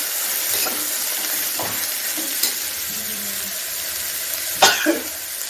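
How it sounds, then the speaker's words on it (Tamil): Ridge gourd sautéing in a pan for a Tamil-style tomato side dish: a soft, steady sizzle with a few sharp scrapes and knocks as it is stirred, close by, with no voice. "பீக்கங்காயை போட்டு நல்லா வதக்கிடுங்க"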